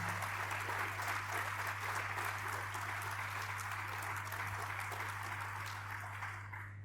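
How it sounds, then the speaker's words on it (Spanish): Sustained crowd applause at an academic symposium on the Malvinas conflict, dense steady clapping from a large audience filling the whole stretch and tapering slightly at the end, with no talk over it. "un aplauso para ella."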